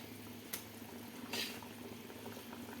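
Fish curry broth with potatoes and aubergine bubbles at a steady low simmer in a pot, a soft continuous hiss with a couple of brief louder splutters, close by and with no voices.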